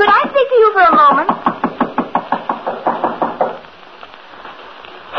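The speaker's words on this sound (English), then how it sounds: "Standing there knocking, I suddenly realized that the door was ajar." Knuckles rap on a door in a 1942 radio drama, about fifteen sharp knocks in a steady rhythm. A voice calls out over the first second, then the knocking carries on alone before fading into quiet.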